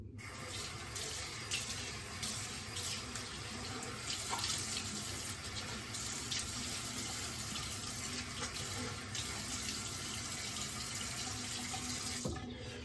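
A bathroom sink tap runs steadily while a Gillette King adjustable razor is rinsed, a constant rushing splash of water with faint clinks, fairly close and uninterrupted.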